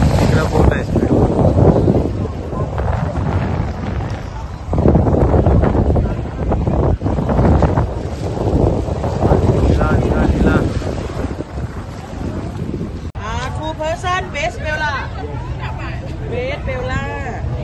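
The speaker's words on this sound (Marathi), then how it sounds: "तसा इकडं बोट आहे स्पीड बोट" A speed boat crossing to Coral Island off Pattaya, with loud engine drone, rushing water and heavy wind buffeting the microphone, and people talking and chattering throughout.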